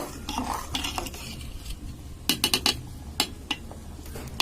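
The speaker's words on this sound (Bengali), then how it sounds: "আমি এখন নেড়ে দেখলাম যে ভাতটা হয়েছে কিনা" A spoon clinks and scrapes against a metal cooking pot as rice is stirred to check if it is done, giving a run of sharp, close metallic taps over a low background hum.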